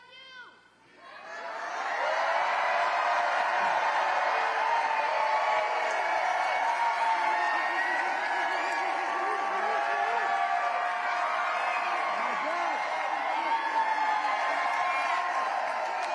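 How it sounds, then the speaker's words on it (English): A big crowd at a campaign rally in Detroit, Michigan cheers, whoops and applauds loudly and steadily, a dense roar of many voices that swells after a quiet start and holds for the whole stretch. "we got a great crowd here tonight"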